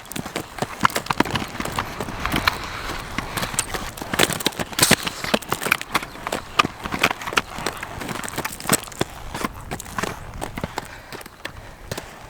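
Roller skates practice fast feet over rocks outdoors, a rapid run of sharp clattering wheel and boot impacts at an irregular quick rhythm, close and fairly loud throughout.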